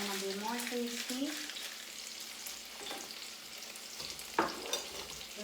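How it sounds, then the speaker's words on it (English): Butter melting in a pan gives a faint, low sizzle with occasional light clicks, and a voice hums or speaks briefly at the start. "We just have our butter melt. So it's melting already."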